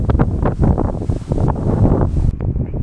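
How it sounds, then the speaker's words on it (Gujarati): Gusty wind blasts against the microphone in loud, uneven surges at a farm beside a neem tree for a few seconds, then drops away abruptly near the end. "મારો અવાજ બહુ નહીં આવતો પણ આ તો પવન"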